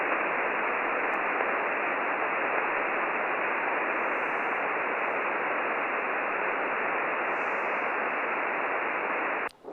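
Steady, loud ham radio static fills the receiver for nearly ten seconds, a broadband hiss with faint mains hum as a weak signal fades out, heard from the bottom of the Grand Canyon with no voice coming through.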